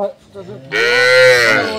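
A dairy cow at a cattle farm gives one long, loud, close moo lasting about a second, following a short stretch of low background voices.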